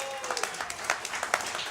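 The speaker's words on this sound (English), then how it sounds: "Let's have another round of applause for the Buckle Down guys" A crowd at a craft beer week round table applauds the event hosts, a brief burst of mixed claps with some voices audible amid the clapping.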